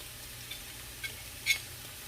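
Steak and mushrooms in a marinated sauce sizzle faintly in a pan, a soft, steady hiss broken by a few light clicks as the food is stirred.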